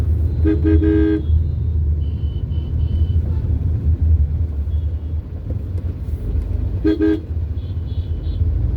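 Constant low rumble of road traffic with several short car horn toots, a cluster early on and another burst near the end.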